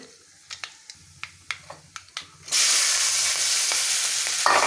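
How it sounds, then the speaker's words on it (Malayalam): Scattered sharp pops and crackles of seeds spitting in hot oil, then a sudden loud, steady sizzle takes over for the rest. "ഉപ്പേരിക്ക് കടുക് വറുക്കട്ടെ"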